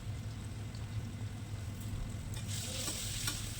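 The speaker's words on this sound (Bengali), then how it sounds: "এবার ভালোভাবে কষিয়ে নেব।" Potatoes with turmeric and salt being stirred and fried in hot oil, a steady close sizzle with scraping stir strokes growing brighter toward the end, no voices.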